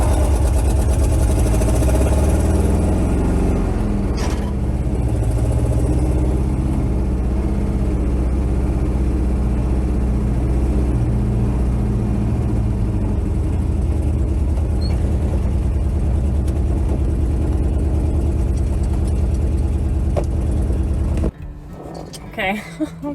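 A C30 RV truck engine with a blown muffler runs loud and rough in a heavy, continuous low roar that holds steady for about twenty seconds, then cuts off abruptly, leaving quieter scattered sounds.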